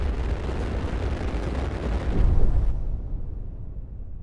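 Rumbling stellar storm in the space game IXION, a dense, loud, continuous roar with booming low bursts that swell near the middle before the high hiss suddenly cuts away, leaving a deep steady rumble.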